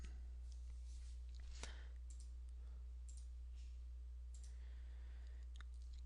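A computer mouse gives a few faint, sparse clicks over a steady low hum, with no talk.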